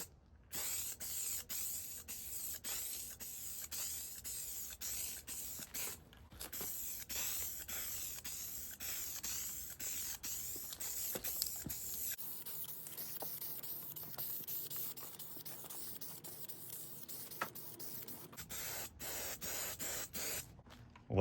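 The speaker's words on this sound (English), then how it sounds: "Let's go ahead and get some black paint on this bad boy." Black paint sprayed from an aerosol can onto the brake drums of a 1971 Dodge Super Bee, a steady close hiss running nearly continuously with brief pauses between passes.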